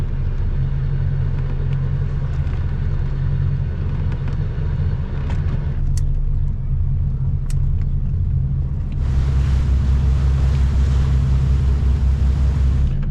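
A boat's engine drones steadily and close as it motors across rolling swell toward a calmer anchorage, a constant low rumble throughout, with added wind or water rush swelling in the latter part.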